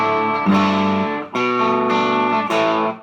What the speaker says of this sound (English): I'm getting much more gain and distortion than I was with the Telecaster